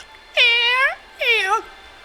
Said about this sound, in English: what you hear now is a cat voice